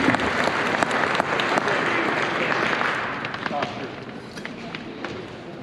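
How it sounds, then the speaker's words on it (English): Audience applause at a symphonic winds concert, a dense sustained clapping from a large crowd that stays steady and full, then tapers slightly in the last seconds. "A round of applause for that working out."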